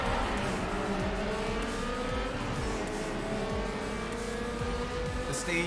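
A stage 3 Toyota Supra racing in Need for Speed Underground 2, its engine revving hard through gear changes with tyre squeal, loud and continuous with no one talking.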